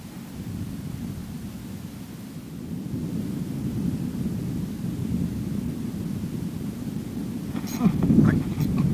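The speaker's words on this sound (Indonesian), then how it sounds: "Anginnya kencang, grenjelannya juga lumayan gede Pak" Strong wind buffets the microphone while fishing at a dam, making a steady low roar with no pauses, swelling into a louder gust near the end.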